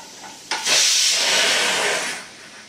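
A pressure cooker lets off a loud rush of steam while sambar cooks. The hiss starts abruptly, holds steady for about a second and a half, then fades, with no voices over it.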